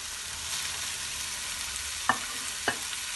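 Macaroni, capsicum, peas and chicken stir-fry in a pan with a soft continuous sizzle, broken by two sharp clacks of a utensil against the pan near the end.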